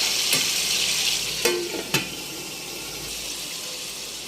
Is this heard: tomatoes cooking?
yes